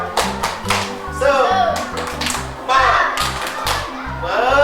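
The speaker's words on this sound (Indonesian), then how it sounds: "Coba sekarang begini, tepuk semangat." Children perform the 'tepuk semangat' clapping chant in a classroom, with quick, patterned bursts of hand claps and taps set against their rhythmic chanting voices.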